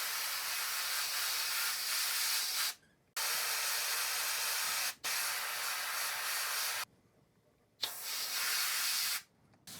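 Pearl red paint sprayed onto the mouth of a carved wooden hickory shad crankbait lure: three long, close hissing bursts separated by short silent gaps, with no talking.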